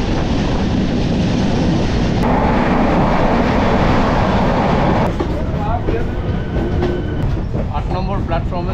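The 12346 Saraighat Superfast Express pulls in along a station platform, its steady loud rumble and wheel noise filling the scene continuously, with crowd voices and chatter mixed in beneath.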